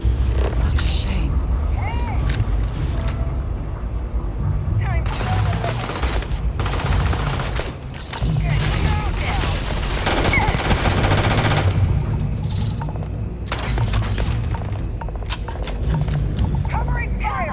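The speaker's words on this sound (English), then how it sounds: "Covering fire! Go!" Gunfire in the space exploration game Starfield: loud, sustained bursts of automatic weapon fire in repeated volleys, with voices shouting among the shots and brief lulls between bursts.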